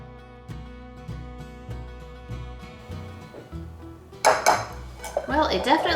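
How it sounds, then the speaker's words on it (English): Cookie dough being mixed in a bowl for a batch of homemade cookies, with a steady run of scraping and knocking strokes that build into louder, busier clattering toward the end. "Now I'm going to mix this all together and see what we come up with."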